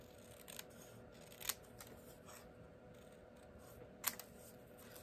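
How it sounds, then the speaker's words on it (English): Scissors make two or three faint, crisp snips as they trim cardstock for a handmade birthday card, with a quiet room hiss in between and no talking. "Now I just need to trim this out a little bit."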